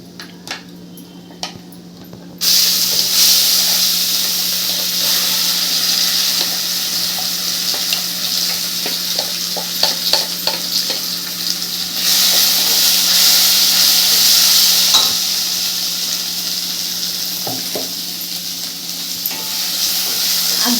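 Ground masala paste for a dhaba-style egg curry frying in oil over a low flame, a loud steady sizzle and hiss with light spatula clicks and scrapes, starting abruptly after a quieter moment.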